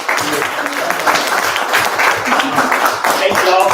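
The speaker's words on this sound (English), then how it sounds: "big clap for all" Audience members at a youth entrepreneur volunteer event clap together in a loud, continuous burst, with voices talking and calling out over the clapping.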